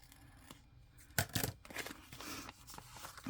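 A paper envelope being cut open by hand while making pockets, a short scissor-like snip and tearing rustle of paper up close, fairly faint and without speech.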